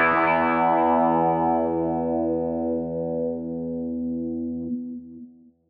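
A single sustained guitar note with an envelope filter, bright and buzzy at the attack, then sweeping darker as it slowly decays to silence.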